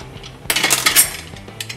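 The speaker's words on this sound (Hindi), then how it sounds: "और कुकर का ढक्कन लगा लेती हूँ" A metal lid is set onto a pressure cooker on a gas stove while cooking Maharashtrian dal, giving one sharp metallic clatter and clink that rings briefly before fading, with no talking.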